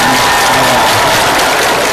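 Loud, dense applause from a high school crowd at a Mawlid celebration, filling the whole moment, close and continuous.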